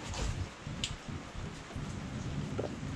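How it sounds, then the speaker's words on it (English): Rain falling outdoors at a forging site, a dense, steady hiss of drops with occasional louder patters and thumps, fairly close and without talking. "Okay, it is raining"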